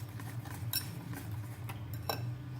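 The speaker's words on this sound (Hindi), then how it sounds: "अब अच्छी तरह से मिक्स कर रही है।" Eggless tea cake batter with milk and a pinch of food colour is stirred in a bowl, with light metallic clinks of a utensil at the sides and a soft, continuous scraping, close and fairly quiet.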